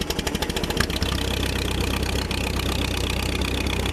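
A late model race car engine with a dirty carburetor runs at a high idle, loud and close: a quick uneven burst of firing pulses first, then a steady rough rumble holding for several seconds.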